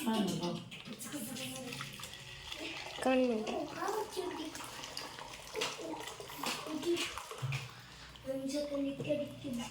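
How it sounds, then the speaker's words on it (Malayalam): Tea being poured through a steel strainer, a running liquid splash and trickle heard under close talking voices. "എന്താ നമ്മുടെ ചായ അരിച്ചെടുക്കാമേ"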